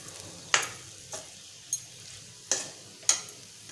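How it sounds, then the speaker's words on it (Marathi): Tondli (ivy gourd) with grated coconut and coriander being stirred in a pan, a few sharp spoon scrapes spaced about a second apart over a faint steady sizzle, close and fairly quiet. "छान मिक्स करूया।"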